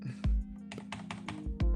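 Typing on a low-profile computer keyboard, a run of crisp key clicks with a few heavier thumps, close and alone with no talk.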